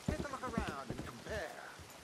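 Horse hooves clip-clop in a video game, a few quick thudding steps from a thoroughbred, close and moderately loud with someone talking over them.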